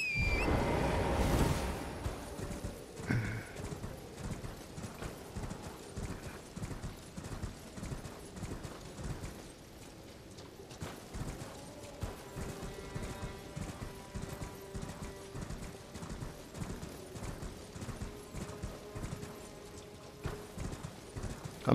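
Horse hooves clip-clopping at a steady galloping rhythm in the video game Elden Ring, loud and continuous with a brief whinny near the start, no talking over it.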